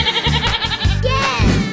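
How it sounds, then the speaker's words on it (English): A goat bleats in a cartoon-style animal sequence, with wavering calls heard close and loud among lively music and other sounds. "Goat."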